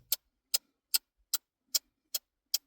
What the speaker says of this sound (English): With the ticking of the clocks, right?